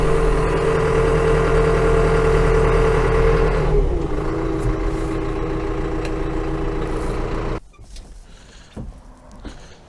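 A TUMOSAN 5275 garden tractor, a Turkish 76-horsepower machine, runs loud and close with a steady engine drone, its pitch shifting near four seconds, before the noise drops off sharply toward the end, leaving faint scattered sounds.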